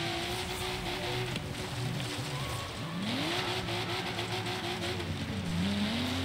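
Engine of a Nissan Skyline GT-R in Forza Horizon 3 revs and wavers through a puddle drift, loud and continuous, with pitch sweeping up and down over splashing, hissing tire noise.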